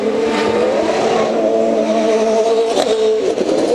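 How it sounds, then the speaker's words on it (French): Indy race cars lapping the track during qualifying at the 2003 Molson Indy in Montreal, a loud, continuous high-pitched engine whine with shifting pitch and brief tire squeals, no voices. "c'est 12 voitures maintenant qui sont en piste"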